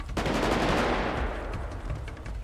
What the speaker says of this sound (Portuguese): Aqui, tá tocando tiro aqui.